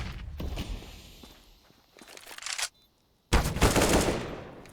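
Gunfire in a Counter-Strike: Global Offensive match during a bomb-site retake, rapid bursts of shots and footsteps mixed with game sound, cutting out briefly before another loud volley.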